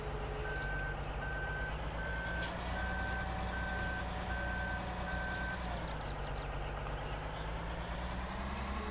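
A dump truck in Farming Simulator 2013 reverses with a steady series of evenly spaced backup beeps over a constant low diesel engine drone, with a brief hiss partway through.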